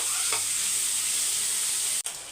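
Three tomatoes frying with half-softened onions in a pan, a dense, even sizzle close up with a faint stirring scrape early on and a brief dip near the end.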